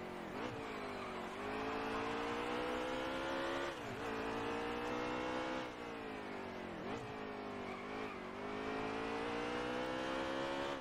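NASCAR Heat 3 race car engine at Sonoma in a video game, revving hard and steadily, with pitch climbing and dropping repeatedly as it shifts and brakes through turns, heard alone.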